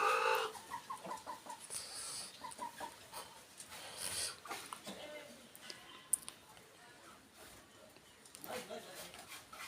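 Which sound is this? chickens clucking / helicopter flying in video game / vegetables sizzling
chickens clucking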